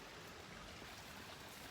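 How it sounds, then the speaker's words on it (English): A river in northern Kentucky, running high, rushes as a steady, faint wash of broadband noise that holds even and unbroken throughout. "Water's running, river's on the rise."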